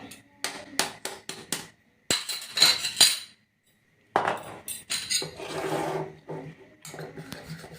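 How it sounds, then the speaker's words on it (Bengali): Eggs are cracked one by one against a hard kitchen edge for egg kachori, giving a string of crisp clicks and knocks with short pauses between them, close and fairly quiet. "তারপর আমি ডিমটা একটা একটা করে ফাটিয়ে নেব।"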